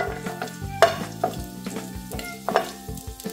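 Garlic frying in sesame oil while being stirred, a steady sizzle punctuated by close scraping and clinking stirs at an uneven rhythm, with no voices.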